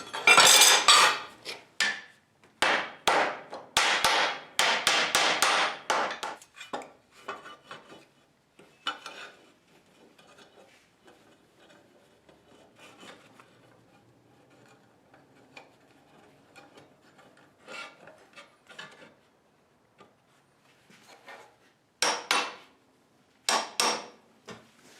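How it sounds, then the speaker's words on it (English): Metal clamps rattle and tighten onto wooden 2x4 frame sections for a Mazda 4x4 Ranchero build, with dense bursts of clanking and scraping at the start, quieter sparse taps through the middle, and a few sharp knocks near the end. "we're going to clamp this all together,"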